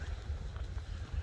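Steady wind blows outdoors on a snowy, sleety day while walking through a neighborhood, a low buffeting rush hitting the microphone and loud throughout the short stretch.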